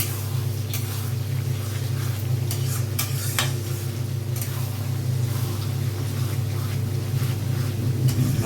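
A spice masala for chicken kasha sizzles steadily as it fries in a pan, with scraping strokes of a spoon stirring it, close and unbroken under a low kitchen hum.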